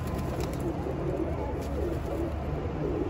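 Pigeons cooing in a rooftop coop netted over with a mesh: soft, low, repeated throaty coos against a steady background hiss.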